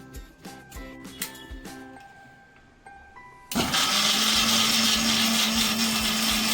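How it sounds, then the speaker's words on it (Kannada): A mixer grinder starts up and whirs loudly and steadily as it grinds masala with ginger for mushroom biryani, following a few seconds of quieter kitchen clinks and taps. "ಒಂದು ಮಸಾಲೆ ರುಬ್ಕೊಂಡಿದ್ದಾಯ್ತು."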